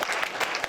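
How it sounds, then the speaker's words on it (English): Banquet audience applauding at an awards event, a dense steady wash of many hands clapping close and loud throughout, with no voices over it. "Let's clap it up for his father."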